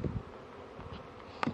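Honey bees from a gentle-bred colony buzz steadily around beekeepers at close range, a continuous droning hum with a sharper buzz near the end, no talk.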